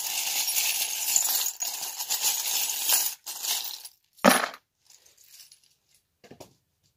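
Small metal charms jangle and clink together for a divination reading, a close, bright rattling for about three seconds, then a sharp clatter as they drop, followed by a few faint settling clinks, with no voices.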